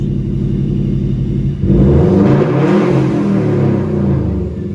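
A car engine is cranked and catches, then revs up with a loud rising and falling roar before settling back into a steady idle, close and dominant.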